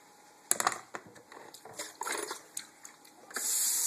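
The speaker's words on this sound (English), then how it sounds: "you want to rinse them off. Okay? So I'm going to use the same strainer that I use for the potatoes" Hot tap water runs and splashes over chopped potatoes in a kitchen strainer, a steady rushing stream with scattered clatters, building to a louder gush at the end.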